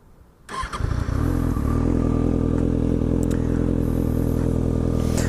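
A motorcycle engine, fitted with a quieter exhaust baffle, starts and settles into a steady, fairly subdued warm idle with a deep, even rumble, close by and continuous.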